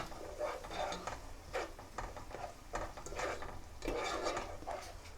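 Spices with cumin are stirred in a cooking pot, giving soft, repeated scraping strokes of a spoon against metal, quiet and close.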